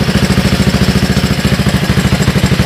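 A salvaged Honda ATC 185 three-wheeler engine runs close and loud with a fast, even thumping idle pulse throughout, with no voices.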